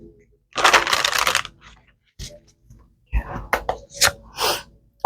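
Tarot cards shuffled by hand in a long riffling burst, followed by a few softer taps and a second quicker flurry of shuffling and card snaps, close and fairly loud with no talking.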